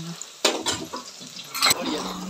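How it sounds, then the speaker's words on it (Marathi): A spice tempering for country chicken hits a hot pan with close sizzling and stirring, and sharp bursts of crackle at two points set off by scraping and light clinks. "इथे शिजवायला लागतं म्हणून फोडणी घालतोय."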